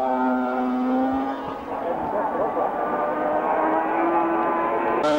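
A 1986 500cc Grand Prix racing motorcycle at Spa Francorchamps, its engine holding a loud, steady high-pitched drone that rises and shifts in pitch, heard close up with a race commentator talking over it.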